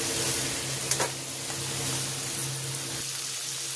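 A wok sizzles as boiled fish is fried with onion and tomato, a steady crackling hiss with a low hum underneath and a few stirring scrapes, close and alone for almost four seconds.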